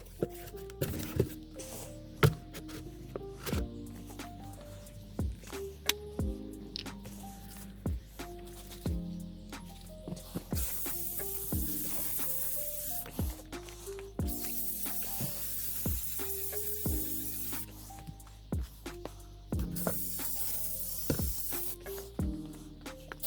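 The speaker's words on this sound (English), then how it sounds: "here's the book I just sprayed up" Aerosol paint sprayed onto a book cover in a home studio, heard as a couple of bright sustained hissing bursts over steady background music.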